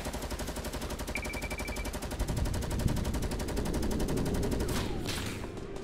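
Gunfire in the video game Fortnite rattles in a rapid automatic burst of evenly spaced shots, loud and continuous across the whole stretch, with a short whistling streak partway through.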